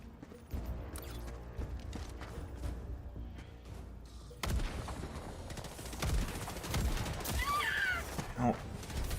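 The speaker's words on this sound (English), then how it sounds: "Why is it shooting in that direction?" Gunfire rattles in the video game Helldivers 2, bursts of sharp shots and mechanical clanks building in density partway through, while a player talks over the action.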